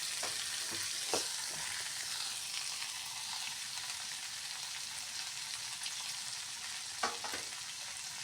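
Cumin seeds and five or six black peppercorns dry roasting in a pan, a faint steady hiss with a few light scrapes and clicks of stirring, no voices.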